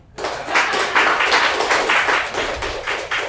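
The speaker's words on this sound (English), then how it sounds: "let's clap" An audience applauds at a crypto demo showcase in Toronto, a steady round of clapping from a room full of people that starts suddenly and keeps going at an even level.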